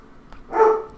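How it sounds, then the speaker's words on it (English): A dog barks once or twice somewhere in the background, apparently at a pigeon, a moderately loud, brief burst that rises and fades within a second. "Doggo in the background vibing. He's just barking at like a pigeon or something."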